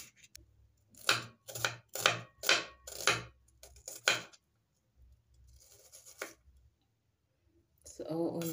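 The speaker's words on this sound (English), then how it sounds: "So we are going to start chopping and mixing everything up" A knife chops onions on a cutting board for a vegetable salad: about eight crisp, evenly spaced strikes, then a pause with faint handling noise before a person starts speaking.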